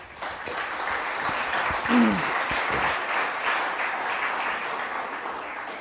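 A church congregation applauds steadily in a dense wash of clapping that lasts the whole clip, with a brief voice rising over it near the start.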